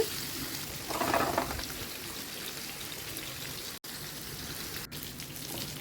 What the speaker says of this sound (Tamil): மேரினேட் பண்ணி வச்சுருந்த மீன் துண்டுகளை இதில் வச்சு ஃப்ரை பண்ணி எடுக்கணும்